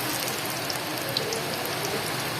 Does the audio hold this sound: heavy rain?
yes